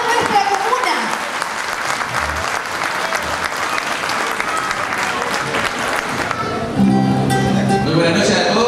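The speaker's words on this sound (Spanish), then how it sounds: "me lo recuerden el aplauso de toda nuestra comuna." A community crowd at a cueca and folk song gathering in San Nicolás applauds loudly, with steady massed clapping mixed with crowd noise. A voice rises over it near the end.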